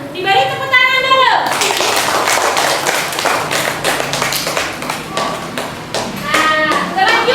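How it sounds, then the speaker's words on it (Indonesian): Primary school students in a classroom clap together in a rapid, irregular burst of hand claps, with children's high voices calling out at the start and near the end. "Diberi tepuk tangan dulu."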